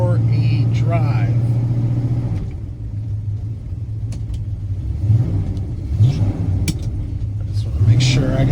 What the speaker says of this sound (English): we're going to take the 1966 Pontiac GTO tribute car for a drive